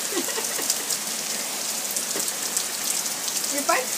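Steady rain patters and hisses on surfaces, with scattered individual drops standing out.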